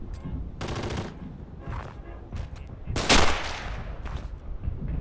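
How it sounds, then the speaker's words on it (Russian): Gunfire in the WWII video game Classic Ostfront, several separate bursts of shots, one louder crack near the middle, over a low rumbling battlefield background. "Стреляю на месте!"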